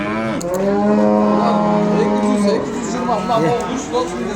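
Cattle lowing at an outdoor livestock market in Sokuluk, a long, loud, close moo followed by shorter bellows, with people talking in the background.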